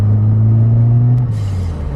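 Cadillac car engine rumbling while driving, a loud, steady low growl heard from close by, shifting slightly in pitch partway through, with no talking.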